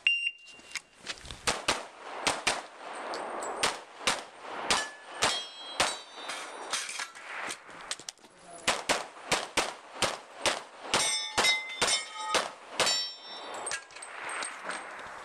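Gunshots ring out at an action shooting match, each crack followed by the bright metallic clang of steel targets, in rapid irregular strings with short pauses, loud and close.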